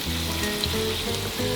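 Slices of pork belly fry slowly over low heat in a pan as their fat renders out, giving a steady, close sizzle with no talk.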